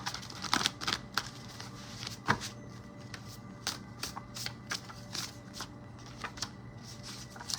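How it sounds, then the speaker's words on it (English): Tarot cards shuffled and pulled at close range, a run of quick papery riffles and soft slaps with a few sharper card snaps, steady and alone with no voice. "I'll pull a couple more general cards and then it's finances"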